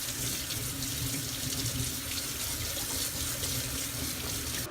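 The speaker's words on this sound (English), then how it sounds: "We're gonna rinse the beans, yo." Tap water runs steadily into a kitchen sink while beans are rinsed, a constant close hiss and splash with no talk.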